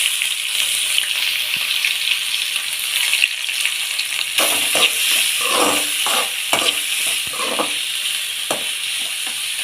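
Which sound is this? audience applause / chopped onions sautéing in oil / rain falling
chopped onions sautéing in oil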